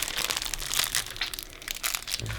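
Rubber glove filled with glue slime squeezed by hand, giving continuous close crinkling and squelchy crackling that runs throughout without talk.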